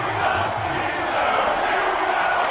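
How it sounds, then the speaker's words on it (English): Stadium crowd roaring steadily at a Steelers home game against the Bengals in Madden NFL football, a loud continuous wash of cheering with no break. "This Steeler crowd hungry for another victory."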